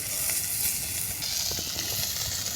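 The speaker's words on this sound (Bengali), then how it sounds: "এই যে আমার কত সুন্দর হয়ে গেছে মাছ ভাজি" Fish frying in a pan gives a loud, steady, close hiss of oil that runs unbroken throughout.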